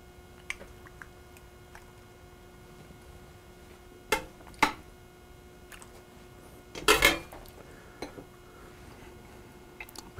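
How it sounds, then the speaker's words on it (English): A few soft scrapes and clinks of a utensil against a baking dish as cooked Bisceglie pasta is scooped in over sauce, brief clattering bursts separated by quiet, fairly close. "scoop about 1/3 of my pasta in there"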